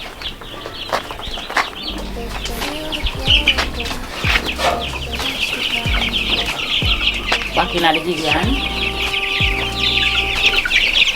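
Chickens cluck and squawk steadily at a hillside chicken farm in Jamaica, with some newly hatched birds nearby, a dense flock chatter running throughout while someone talks over it.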